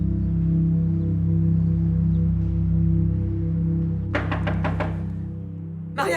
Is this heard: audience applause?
no